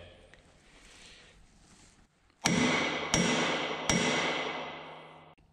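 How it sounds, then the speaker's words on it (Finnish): A hammer strikes the rusty metal of an old cart three times in a slow, even rhythm, each loud close blow followed by a long ringing metallic sustain. Faint background noise comes before the first strike. "nyt mä teen tämmösen vasarakokkeen, että onko tämä oikeasti liian laho vai ei."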